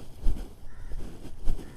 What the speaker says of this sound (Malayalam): കാക്കയുടെ ശബ്ദം.